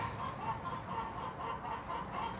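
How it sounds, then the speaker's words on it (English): Chickens clucking outdoors, a steady run of repeated mid-pitched clucks and murmurs from a small flock, moderately near but fairly quiet, with no talk over them. "Chickens. Shut up, chickens."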